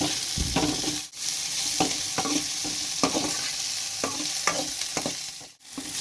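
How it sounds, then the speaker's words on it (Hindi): Cumin seeds and finely chopped onions fry in a pan with a steady, close sizzle, broken by regular scraping strokes from stirring about every second. "ये ज़ीरा हम हल्का सा फ्राई कर लेंगे। और प्याज, ये भी हमने बारीक चॉप किए थे, ये भी हम फ्राई कर लेंगे।"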